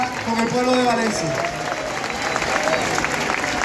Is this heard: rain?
no